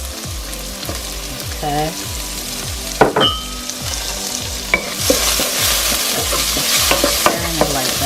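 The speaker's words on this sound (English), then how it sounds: "So over here we're gonna add our shrimp." Shrimp frying in a pan for egg fried rice, a loud continuous sizzle with a regular rhythmic scraping of a utensil stirring, close up, and a brief spoken word partway through.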